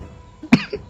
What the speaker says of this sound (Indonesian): Nah, batuk.